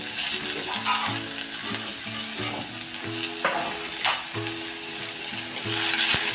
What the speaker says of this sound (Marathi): त्यामध्ये आपण थोडं तेल टाकून घेऊया आणि त्यातच हे आपण आलं आणि लसूण परतून घेणार आहे